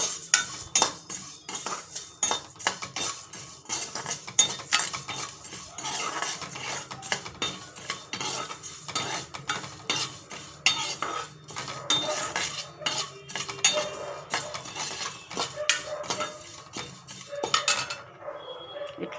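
Peppercorns, coriander seeds and spices roasting dry in a pan are stirred continuously, making rapid rhythmic scraping and clinking of a metal spoon against the pan with a faint crackle underneath.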